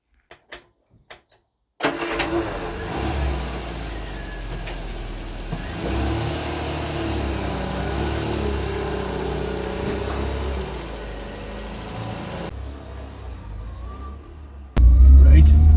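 A cold Vauxhall Viva engine, fresh from a new carburettor, timing work and a tightened clutch, fires up after a few faint clicks and runs loudly with revving for about ten seconds before dropping away, then a sudden loud noise at the end.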